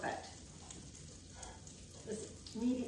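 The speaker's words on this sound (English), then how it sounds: "Let's see if they sizzle." Beefalo meat sizzles in a hot cast iron pan over medium-high heat, a steady crackling hiss with a brief voice murmuring over it near the end.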